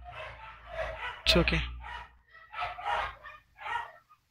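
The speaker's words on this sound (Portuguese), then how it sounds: "Não, os cachorros estão foda." A dog barks once, loud and close, in a sudden burst in the middle of a tabletop role-playing session, while people keep talking before and after it.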